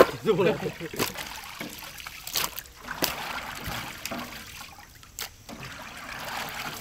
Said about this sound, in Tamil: அதான் இப்படி தண்ணி வடிச்சிடுறோமே நல்லா எல்லாம் கீழே